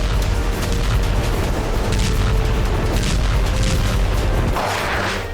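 Explosions from the war in Ukraine: a loud, dense, continuous rumble of blasts and booms, heavy and distorted, with a brief dip before it surges again.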